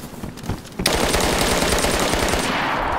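Automatic gunfire in DayZ starts suddenly after a quieter lead-in and runs as a fast, steady, loud stream of close shots to the end.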